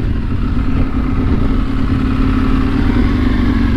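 An EBR 1190RX motorcycle engine idles steadily and loudly up close, just started from cold, a deep, even throbbing rumble with no pauses.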